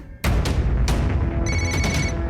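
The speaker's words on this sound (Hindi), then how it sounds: "ये सैनी क्यों मुझे फोन कर रहा है?" A phone rings loudly with repeated bursts of an electronic ringtone, steady and close, the tone pattern continuing without pause.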